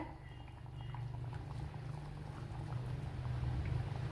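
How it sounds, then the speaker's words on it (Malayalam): Sardine fish curry bubbling at a steady simmer in a pan, oil rising to the surface, a continuous low gurgling bubble that holds close and even throughout. "നല്ലതുപോലെ തിളച്ച് ഓയിലൊക്കെ തെളിഞ്ഞ് വന്നിട്ടുണ്ട്"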